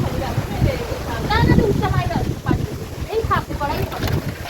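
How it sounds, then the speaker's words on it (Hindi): Wind blows outdoors in a village, a rough gusting rumble against the microphone, heard under people talking throughout. "कैसे हवा चल रही है।"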